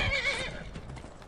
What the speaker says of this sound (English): Don't beat my horse up.